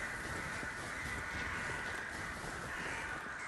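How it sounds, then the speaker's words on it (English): Crows in the video game Lies of P caw harshly over a dense, steady layer of game ambience, the calls coming as several raspy cries at a moderate distance, with no talking. "Something startled those birds."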